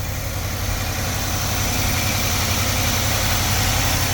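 A 1986 Chevrolet S10 engine with a misfire and a smoking problem idles close by, giving a steady low rumble with a faint uneven pulse throughout and no talking.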